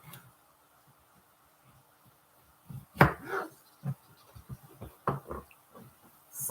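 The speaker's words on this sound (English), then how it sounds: "I might need to cut this in 2 because like the slices are too wide." A knife chops through squash slices on a board in a quiet kitchen, a few sharp, close cuts in a loose, uneven rhythm.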